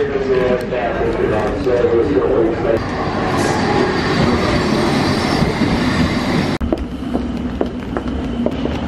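An underground train with an apparent fault rumbles and clatters steadily, with metallic squeals and a sudden clunk, while people talk nearby over the noise.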